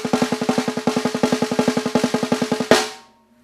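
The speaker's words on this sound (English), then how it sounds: "The double stroke roll just played on the snare sounds like this." Snare drum played in a steady double stroke roll, even paired hits in a fast continuous stream for under three seconds, ending on a louder accented stroke that rings out, close and alone.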